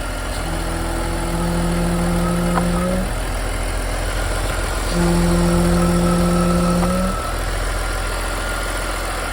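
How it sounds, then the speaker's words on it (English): A warmed-up BMW E46 engine idles steadily with a low hum, rising twice into a brief higher-pitched whine before settling back, close by with no talking. "engine's nice and warm now, it's up to temperature, so let's give it a go"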